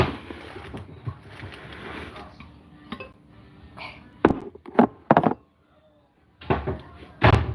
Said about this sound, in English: Let me grab a bowl here.